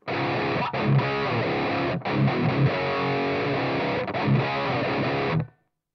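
A heavily distorted electric guitar played through a PRS Supermodel amp simulation with room reverb off plays chords and riffs with a dry, close, boxy tone and no room ambience, with short breaks before stopping.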